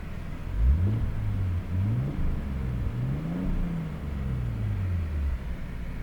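A 1992 Nissan Skyline GTS-T Type M engine revs repeatedly close by, rising and falling in several blips over a steady idle rumble, loud and alone without talk.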